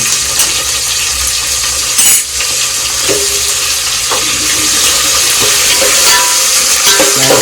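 Chicken with onion and green chillies stirred in a hot pan, a loud continuous sizzle with scattered scraping and clinking of the spoon against metal, close up and unbroken by speech.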